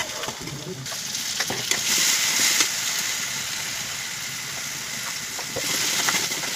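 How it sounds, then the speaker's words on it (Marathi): Mutton cooking in a pan gives off a steady, moderate sizzle as chilli powder, salt, garam masala and mutton masala are stirred in, with soft scraping from a spoon. "त्यात तिखट, मीठ, गरम मसाला, मटण मसाला सगळं घालायचं चालू आहे"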